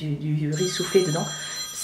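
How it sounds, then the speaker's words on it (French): A mobile phone rings with a high, steady electronic tone that starts partway through and runs under a person speaking French close by. "c'est mon téléphone. Attendez, je vais décrocher et je vous reprends."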